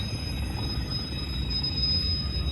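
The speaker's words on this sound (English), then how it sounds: "I am right next to a train" A train rumbles past close by with a steady low roar and a faint high metallic whine from the wheels, continuous and fairly quiet.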